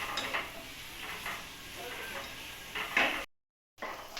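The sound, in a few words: onions frying in a pan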